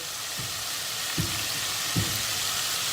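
Chicken livers fry in a pan with a steady, bright sizzle, broken by three soft thuds of stirring spaced about a second apart.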